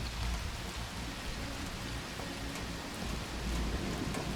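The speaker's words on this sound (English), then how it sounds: "It is hailing real hard." Hard hail pounding down during a mountain thunderstorm on a Rocky Mountain National Park hiking trail, a dense, constant hiss of impacts, loud and close with no voices.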